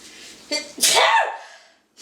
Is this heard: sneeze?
yes